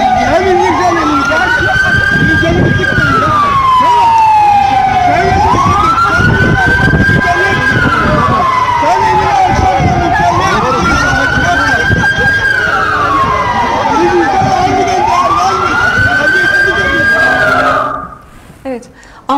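A loud wailing ambulance siren, the ambulance stuck in traffic, cycles up and down repeatedly, close by, over traffic rumble and voices, before abruptly dropping away near the end.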